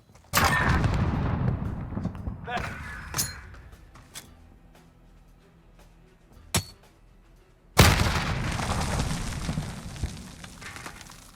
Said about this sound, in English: If you throw the nade over this blue towel, you'll be able to get them out of the right side of broken